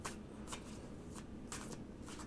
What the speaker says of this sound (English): Shuffle, Mr. O.